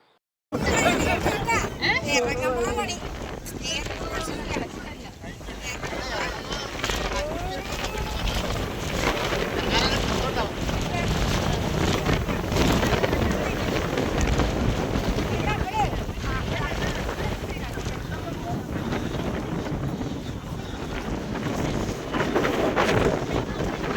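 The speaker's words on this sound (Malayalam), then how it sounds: "വളരെ ശക്തമായ കാറ്റാണ് ഈ മലയുടെ മുകളിൽ" Strong wind of about 80 km/h roars steadily into the microphone on a hilltop at Chathurangapara for the whole stretch, loud and gusty, with voices faintly mixed into the rush.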